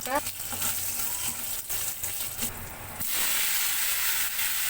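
Tomato chutney cooks with panch phoron in a pan, giving a continuous loud sizzle and hiss that swells louder partway through, with faint clinks and brief voices in the background.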